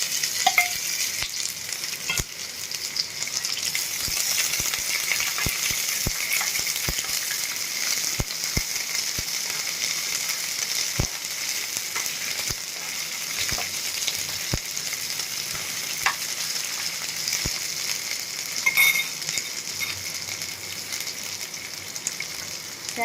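Ivy gourd and chillies fry and are stirred in a pan for a Gujarati sambharo, giving a steady close sizzle broken by scattered clicks and scrapes of the spoon, with no talking.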